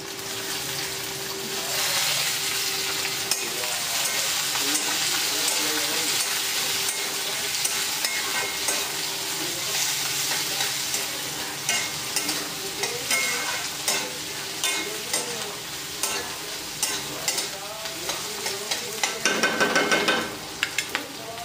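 Ginger-garlic paste fries in a pan with a bright continuous sizzle while being stirred, spatula scrapes growing more frequent and distinct toward the end, no voices.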